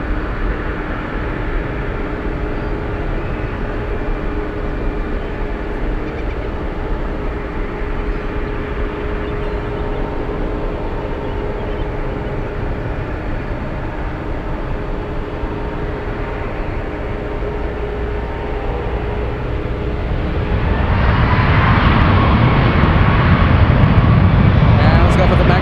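A departing airliner, a long-haul flight to Heathrow, rolling on runway 1 left at San Francisco airport, as a steady distant roar that swells louder near the end, with a voice talking over it.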